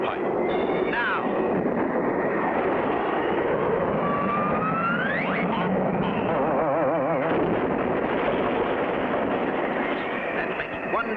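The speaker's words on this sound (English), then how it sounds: "Frenchie Fontaine waits for the takeoff signal" A cartoon airplane's engine roars continuously at takeoff in an air race, loud and dense, with a rising whine near the middle and rattling mechanical effects throughout.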